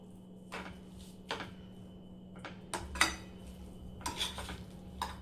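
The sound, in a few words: mixing vegetable filling with sabzi masala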